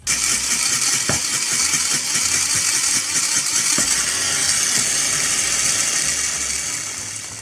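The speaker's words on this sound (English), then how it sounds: "And give it a blend." A blender whirs loudly on a whole quartered onion for kimchi paste, a dense, steady high grinding roar with a few knocks as the chunks catch, running continuously and easing off slightly at the end.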